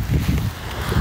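Strong wind at a beach buffets the microphone with steady low rumbling gusts, loud and continuous with no other clear sounds.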